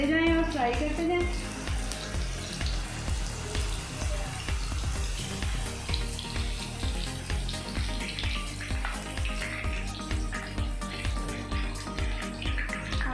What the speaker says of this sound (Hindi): इसी तरह कबाब बनाते जाएं और फ्राई करते जाएं।